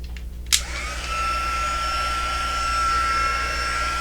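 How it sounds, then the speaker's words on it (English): A sharp click, then a heat embossing gun's steady loud whooshing blower with a high whine, running continuously close by without any talking. "I'm going to go ahead and heat emboss this so it will get a little loud"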